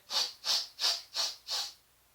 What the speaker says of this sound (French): C'est une respiration qui se fait en 5 inspires